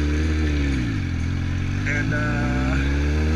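A big, loud motorcycle engine runs close by, with a steady low throbbing rumble and a slight rise and fall in pitch, while someone talks over it.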